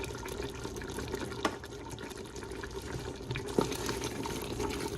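A pot of kare kare, a Filipino oxtail stew thickened with peanut butter and broth, is stirred, giving soft continuous sloshing and liquid churning with a couple of sharper clinks, fairly quiet and with no talking.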